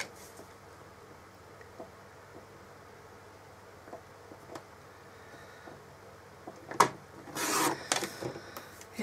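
Scissors or a blade trim a bit off an altered craft box, with faint scraping and snipping that build into a brief louder burst of cutting near the end.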